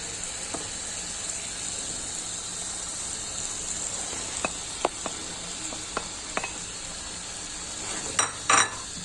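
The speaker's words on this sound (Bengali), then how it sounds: "এখন আমি মশলার মধ্যে দিয়ে দিব বেছে রাখা মাছ।" Bele fish frying in cooked spice paste sizzles steadily in a pan while being stirred, with occasional utensil clinks and scrapes against the pot.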